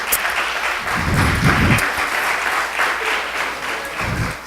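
A church congregation applauds during a sermon, a loud, sustained burst of clapping with a few voices calling out within it, easing slightly near the end.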